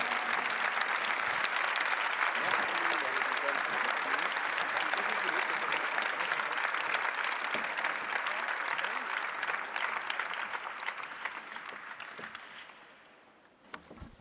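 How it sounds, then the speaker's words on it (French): A live audience at an evening talk applauds steadily to welcome two speakers, the dense clapping sustained for about twelve seconds before tapering off, with a few scattered claps at the end. "Et je vous demande d'accueillir sous les applaudissements Laure Noaillat et Pablo Servigne."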